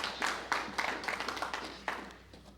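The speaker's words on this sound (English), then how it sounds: "We want to give them a round of applause." Scattered clapping from a small audience honoring an Alpha Kappa Alpha sorority chapter at a donation event, faint and sparse with a few separate claps fading out.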